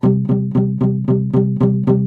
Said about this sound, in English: you rest your palm on the strings to slightly mute the sound,